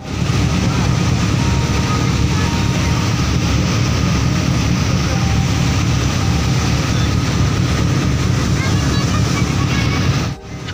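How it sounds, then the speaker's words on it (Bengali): Engine of a remote-control scale model of the Sundarban 16 river launch, a steady loud drone running without a break for the whole stretch, with a brief dip near the end and no talking. "এদিকে যেহেতু ইঞ্জিনের একটা নয়েজ থাকবে"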